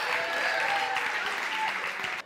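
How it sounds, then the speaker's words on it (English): Audience applause at a ventriloquist show: a dense, steady wash of clapping from a crowd, loud and continuous for about two seconds before cutting off abruptly. "Give him a big round of applause, Angela, come."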